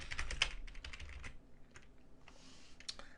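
A computer keyboard clatters in quick, close bursts of keystrokes, pausing briefly before a few more taps, and no one speaks.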